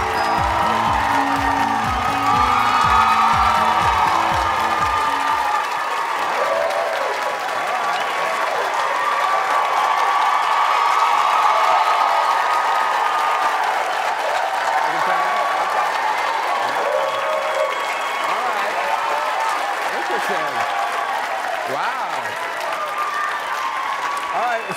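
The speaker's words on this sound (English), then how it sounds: "Mystery guest got a good, really excited applause" Studio audience bursts into sustained, loud applause and cheering as a mystery guest walks out on a talk show, a dense continuous roar of clapping lasting throughout, with background music at the very start.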